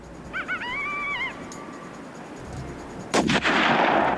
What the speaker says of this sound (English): I'm gonna go ahead and take a shot.